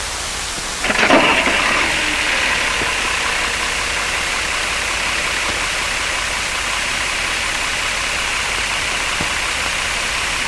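A multifuel LD 465 military truck engine cranks and catches with a sharp burst, then settles into a steady, loud diesel-like idle that runs on without a break.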